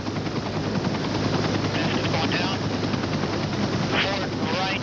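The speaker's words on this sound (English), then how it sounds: "In a matter of minutes, the helicopter was there." A rescue helicopter hovering over a vessel, its loud rotor chop and turbine roar filling the clip continuously and steadily from start to finish, with wind rushing across the microphone.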